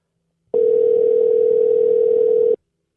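A steady telephone dial tone, loud and unbroken, holds for about two seconds and then cuts off, with silence before and after.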